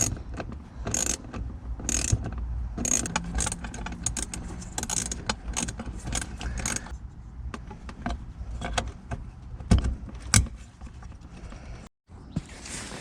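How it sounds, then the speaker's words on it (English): Ratchet tightening four bolts on the fuel pump access plate of a 1997 BMW Z3 2.8L, giving bursts of quick clicking ratchet strokes with short pauses between them, fairly quiet and close. "it's just screwing these 4 bolts down and closing it up"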